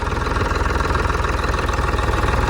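A tractor engine idles steadily and loudly up close, a constant low mechanical rumble with a fast, even pulsing throb and no voices.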